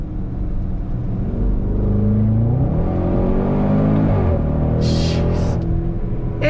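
A 2021 Range Rover Sport SVR Carbon Edition pulls hard under throttle. The engine roars loudly and climbs in pitch through rising gear pulls, with audible shifts, followed by a short burst of high hissing.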